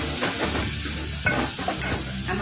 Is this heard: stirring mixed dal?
yes